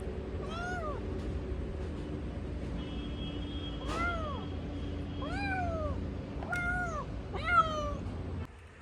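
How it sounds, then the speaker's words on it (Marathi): Several meows from a cat at a shop, arching repeated calls spaced a few seconds apart over steady background noise, fairly close. "म्यावला बघायला त्या मांजरीला बघायला"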